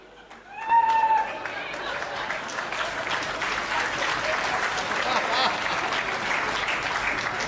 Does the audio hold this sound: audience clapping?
yes